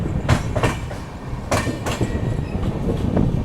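Wheels of the Garba Superfast Express clatter over rail joints, heard from aboard with a repeating clickety-clack of paired beats over a steady rolling rumble.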